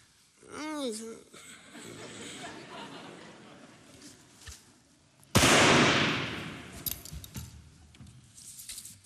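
A gunshot during a pheasant hunt in a German-language comedy show, a single sharp loud blast followed by a decaying rumble, after earlier talk and a faint chuckle.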